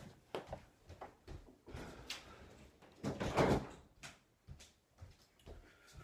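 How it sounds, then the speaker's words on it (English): A door being shut indoors at home, with a sequence of knocks and rattles building to a louder thud near the middle, followed by a few softer clicks and bumps. "let me shut the door really quick"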